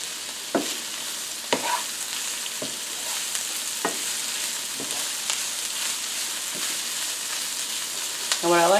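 Broccoli sizzles steadily in a frying pan while a utensil stirs it, producing sharp scraping clacks about once a second over the continuous frying hiss, close and clear with no talking.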